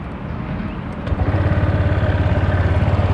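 A Honda Vario 150 scooter engine and CVT idle nearby, a steady pulsing low throb that settles into an even chugging rhythm after a brief shift.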